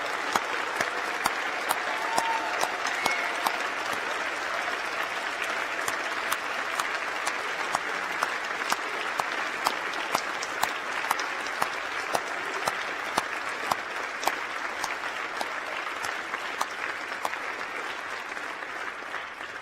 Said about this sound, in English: So I ask them, along with my colleagues, to applaud you, our new graduates.